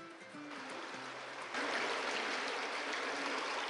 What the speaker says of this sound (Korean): 물소리 듣는 게 너무 신기한데요? 예, 우리 온달 동굴은 동굴 안에 계곡이 있어요.